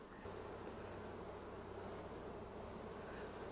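Bees buzzing around a hive during bee marking, a continuous faint drone of many insects with a low hum underneath, steady throughout with no voices.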